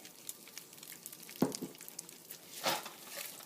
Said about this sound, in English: So we toss the rice up in our ghee and cumin and mustard